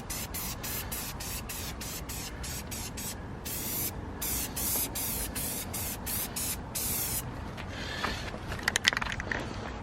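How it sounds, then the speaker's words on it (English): An aerosol spray paint can hisses in a long run of quick bursts, then a few steadier sprays, close by with no talking. "I think I'm just going to spray over this real quick here."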